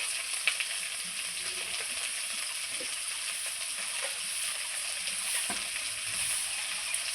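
Okra fries in oil with salt and turmeric, a steady bright sizzle throughout, punctuated by a few soft knocks and scrapes of stirring in the pan, with no voices.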